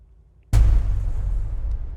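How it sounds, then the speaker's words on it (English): A Classic Hit 2 cinematic trailer impact from UVI Meteor, like a huge industrial warehouse slam, lands as one heavy booming hit after near silence, then rolls into a long, loud rumbling tail. "Just sounds like a huge industrial warehouse slam."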